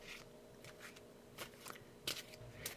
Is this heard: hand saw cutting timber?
no